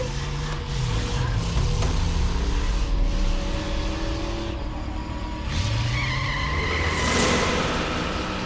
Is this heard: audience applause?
no